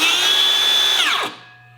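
A Makita sub-compact 6.5-inch circular saw whines at high, steady speed, then its pitch drops sharply as its electric brake stops it within a fraction of a second.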